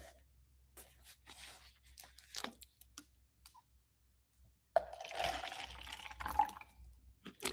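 More water is poured, first as scattered faint drips and splashes, then as a louder, steady splashing pour in a quiet room.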